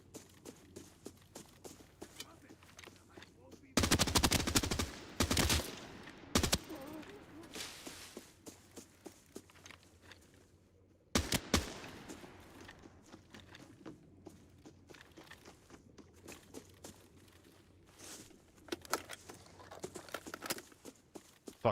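Player gunfire in a first-person shooter, with a loud cluster of rapid shots around four to six seconds, a sharp single burst near eleven seconds, and quieter footsteps and movement in between.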